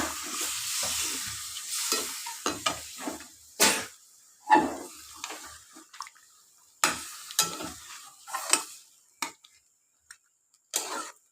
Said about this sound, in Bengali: এটাকে আমি চা পাতার জল দিচ্ছি